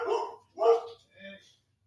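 Three short barks from a dog, close by, evenly spaced with brief pauses between them.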